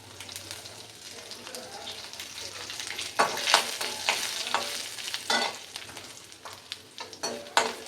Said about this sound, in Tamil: கொஞ்சம் உளுத்தம்பருப்பு, கொஞ்சம் கடலைப்பருப்பு இதெல்லாம் போட்டு இந்த பருப்பு கொஞ்சம் கோல்டன் ப்ரௌன் கலரில் வந்து வறுத்துக்கலாம்